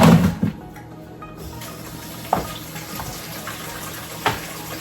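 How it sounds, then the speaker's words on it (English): Water runs steadily from a tap while cow foot meat is washed for soup, a soft continuous hiss with a few brief splashes and clatters near the start and occasional clunks later. "so we go wash off the meat"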